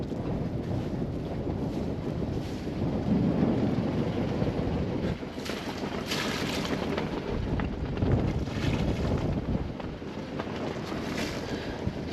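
A sailboat motors into an anchorage at Peter Island in the British Virgin Islands, its engine a steady low drone mixed with water wash and gusty wind buffeting the microphone, continuous and close.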